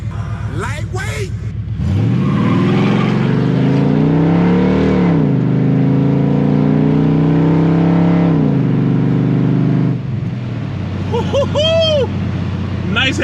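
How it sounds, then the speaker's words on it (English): A Kodiak truck fitted with 3.90 Motive gears and a TrueTrac posi accelerates hard with both tires spinning. The engine roars loud and close, its pitch climbing and falling over several seconds, with a brief whooping voice near the end. "Nice having both tires light up when you mash the gas"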